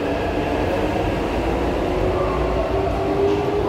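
Taipei Metro C381 steel-wheel train, set 2513+2514 on the Tamsui-Xinyi line, heard at Shilin Station in the evening as a steady, loud rumble of the train moving along the platform, with no talking.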